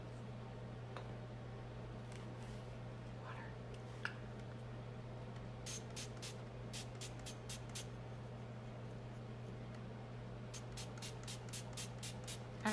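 Two quick bursts of short hissing sprays, each a rapid series of spritzes from a spray bottle, over a steady low hum.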